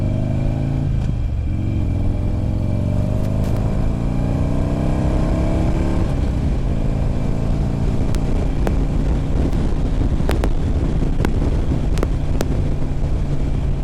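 A Buell Ulysses motorcycle with a Harley-derived engine rides a short loop, its engine rumbling loudly up through the revs with strong wind buffeting throughout and sharp clicks scattered across the ride.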